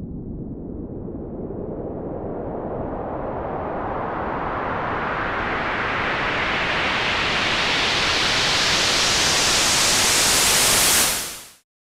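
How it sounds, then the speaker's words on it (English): A white noise build-up made with an analog synth instrument and an auto filter, a hiss that steadily brightens and swells for about eleven seconds, then cuts off abruptly. "that's pretty much how you make a white noise build-up using an analog instrument and an auto filter."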